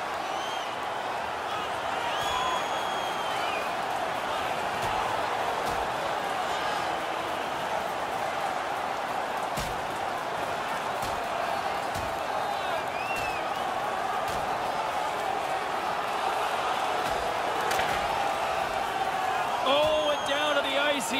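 A steady roaring hockey arena crowd in NHL 21 rises as players drop the gloves for a fight, a dense sustained wash of cheering and clapping that carries on without letup.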